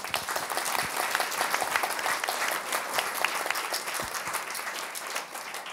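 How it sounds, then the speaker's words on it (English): Sustained audience applause at a Thailand Focus 2018 conference session, honoring Khun Banthoon: dense, steady clapping from a large crowd throughout, moderately loud and unbroken. "give a big round of applause to Khun Banthoon"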